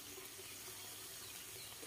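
Water pouring steadily into a pan of stir-fried beef and curry paste to simmer, a brief, continuous, faint rushing splash with no voices.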